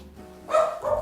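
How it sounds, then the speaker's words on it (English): A pet dog lets out a single loud bark, split into two quick bursts, close by in a quiet indoor room. "wait for him to stop barking"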